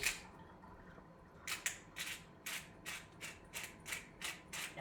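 Fresh pepper is ground from a pepper mill over raw chicken, a run of about ten even ratcheting crunches in a steady rhythm, close up but soft, after a brief quiet start.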